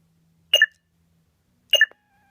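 Two short electronic beeps from a lightsaber hilt during sound bank selection, spaced about a second apart, each a quick bright double chirp in an otherwise quiet room.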